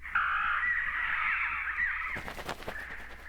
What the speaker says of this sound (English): he heard the shrill cry of birds.